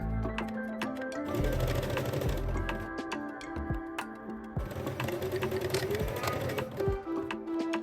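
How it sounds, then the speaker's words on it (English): A domestic sewing machine stitches folds in fabric for a Bali kimono jacket, its needle hammering in fast, even bursts with brief pauses and the motor whirring close by. "Stitch the folds in place on the sewing machine."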